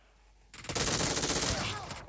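S12 shotgun fire in a multiplayer video game: a sudden loud burst of rapid gunfire starting abruptly and continuing densely for over a second, with overlapping shots.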